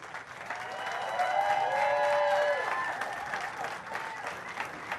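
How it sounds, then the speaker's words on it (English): A crowd at a state finals awards applauds steadily, swelling in the middle and then tapering, with a few cheers and whistles mixed in. "how about one more nice round of applause for our 2 finalists?"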